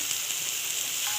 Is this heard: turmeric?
yes